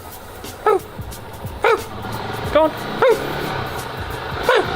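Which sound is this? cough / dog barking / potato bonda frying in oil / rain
dog barking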